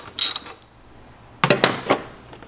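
Wrench loosening the strut plate bolts on a 2022 BMW X3 M40i: two short bursts of metallic clicking and creaking, about a second apart, close and moderately loud against a quiet background.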